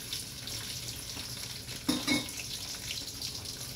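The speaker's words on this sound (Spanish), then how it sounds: "vamos a empezar a freír el pimiento rojo" Red, yellow and orange bell peppers, cut into dice, fry in a pan for Sicilian caponata, crackling with a steady sizzle; one brief louder scrape of stirring comes midway.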